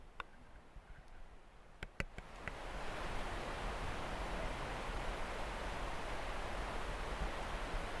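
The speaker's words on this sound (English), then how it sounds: "I can hear the stream way out in the woods." A distant stream flows through woods at night, a soft broad steady rush that swells in after a few faint ticks and then holds evenly.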